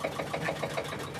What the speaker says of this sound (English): We'll turn the engine off.